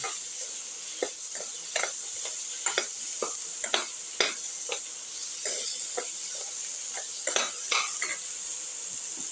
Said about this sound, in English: Salt and mix the potato pieces thoroughly with the rest of the mixture.